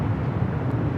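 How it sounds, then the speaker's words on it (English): A United Airlines Boeing 757-300 landing at LAX on flight 1221 from Honolulu, heard as a steady, loud low-frequency jet rumble with wind-like roar throughout this short stretch, no voices. "That was United Airlines flight 1221 coming in from Honolulu, and that's 757-300"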